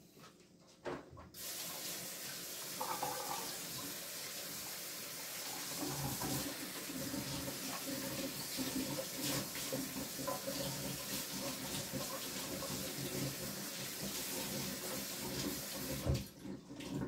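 String beans being washed under a running kitchen tap, a steady close splash of water into a sink that flows almost without pause for the full length, with small shifts as the beans are moved around.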